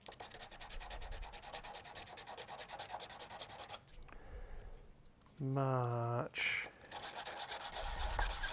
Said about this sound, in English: we'll just use the sandpaper to, clean out the outsides